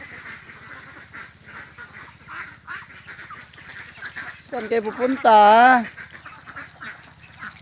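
Domestic ducks kept penned near rice paddies, with scattered soft calls and then a loud, close burst of quacking near the end, while someone speaks briefly over the flock.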